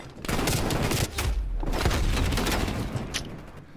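Gunfire in the Call of Duty Cold War video game: a brief flurry of shots and dull thumps in a team deathmatch, fairly muffled and mid-distance, with a sharper crack near the end.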